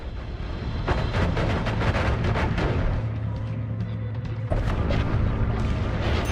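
A wand fires spells in the game Noita, with rapid booming blasts and crackling bursts repeating loudly over a rumbling background, and a voice speaks briefly.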